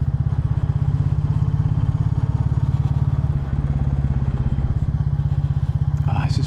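A Royal Enfield Bullet 350 single-cylinder motorcycle thumps steadily as it potters along quiet village lanes, its rapid, even engine beat loud and close throughout with a constant low rumble.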